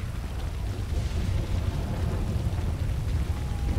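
Steady rain falling in the video game GTA 5, a dense, even hiss of downpour with a low rumbling undertone, fairly loud and continuous with no voices.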